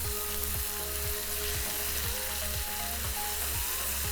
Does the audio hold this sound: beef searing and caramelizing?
yes